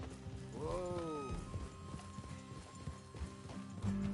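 Horse hooves clip-clop steadily in the Red Dead Redemption 2 video game, a close rhythmic trot with a horse whinnying early on and faint game sounds behind.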